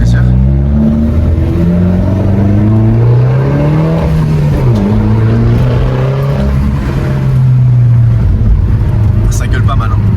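A Peugeot 208 GTI engine revs hard while driving, its loud rising and falling drone climbing through the gears with one sharp dip mid-pull, heard from inside the car.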